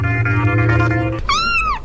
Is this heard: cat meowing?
yes